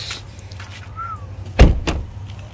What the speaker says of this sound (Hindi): हाँ कर दरवाजा बंद।